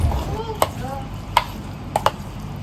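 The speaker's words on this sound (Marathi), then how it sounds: "चवीनुसार आपल्याला चमच्याने हलवून सगळं एकत्रित करून घ्यायचं" A spoon stirs mung bean thalipeeth batter in a bowl with soft wet mixing and a few sharp taps against the bowl, fairly close, with no talk.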